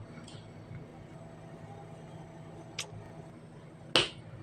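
A single finger snap rings out sharply near the end after a couple of softer clicks, over a low steady background hum.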